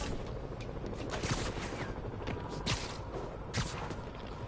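Sniper gunfire in Marvel's Spider-Man cracks out as a handful of sharp, separated shots over a busy, noisy city-combat background, each report loud and abrupt.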